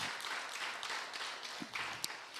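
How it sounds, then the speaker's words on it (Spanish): Scattered, fairly faint applause from a church congregation, uneven handclaps that come and go over a couple of seconds with no voices on top. "Denle un aplauso al Señor."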